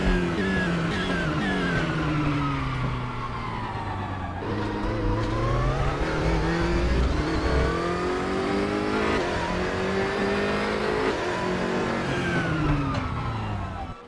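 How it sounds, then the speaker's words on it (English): A BMW GT race car from an SRM team, heard from the in-car cockpit, its engine roaring loud and continuous as revs climb and drop through gear changes, with no talk over it. "In the live cockpit view right now of Patty Zocht in that BMW Laser"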